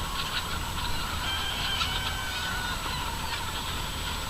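A big flock of feisty California White chickens calls in a steady, dense chorus of honking, squawking cries at dawn, loud and continuous with no talk.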